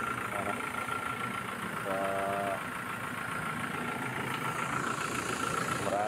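An overhauled 1GD diesel engine in a 2018 Toyota Hilux idles steadily and loud, a constant mechanical drone with a brief beeping tone partway through and a short spoken word at the start.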